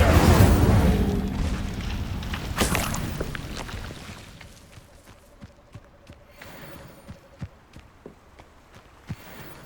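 A fire spell cast in the video game Hogwarts Legacy bursts out as a loud whooshing blast at the start, then fades into quieter rumbling with scattered light footstep-like taps and a faint tonal hum.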